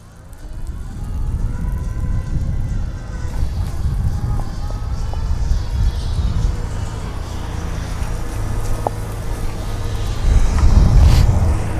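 A Magic Mobility X8 4x4 power chair drives across grass toward a ditch, its electric motor whining steadily at close range over rustling and bumping, growing louder and rougher near the end.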